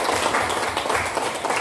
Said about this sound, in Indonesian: Oke, tepuk tangan untuk Anda kalau semangat